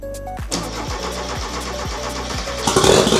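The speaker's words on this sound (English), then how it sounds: "That throttle's properly opening now." A beach buggy engine cranks with several rhythmic starter turns, then catches and idles; near the end the throttle opens and the engine rises louder.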